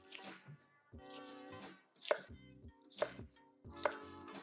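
A knife chops vegetables on a board in a few spaced, crisp bursts, each a quick run of taps with soft thuds between, near and clear in a quiet kitchen.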